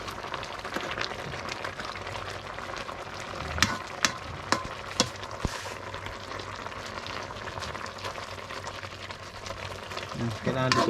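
Laing, taro leaves with tabagwang, frying and sizzling steadily in a pan while being stirred, with a few sharp scrape or clack sounds from the utensil partway through.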